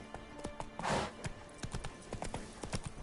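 Roach the horse gallops in The Witcher 3, with rapid, rhythmic hoofbeats thudding close and steady after a brief breathy snort or whoosh early on.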